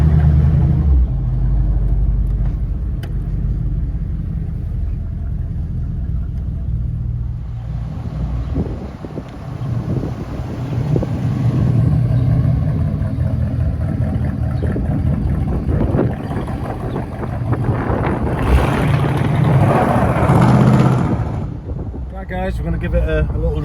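A 1970s car drives along a road, its engine rumbling steadily with wind buffeting and road noise throughout, rising and swelling near the end, while someone talks over it.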